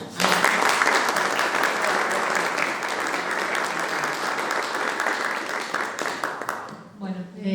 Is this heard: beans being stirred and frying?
no